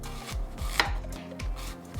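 A knife cuts zucchini into thick slices on a board, several firm chopping strokes falling in an even rhythm, close and clear with no talk.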